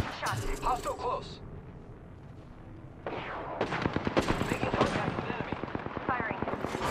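Rapid automatic gunfire from a video game rattles in dense bursts through the second half, following a quieter stretch with brief sharp sounds, while players talk over the action.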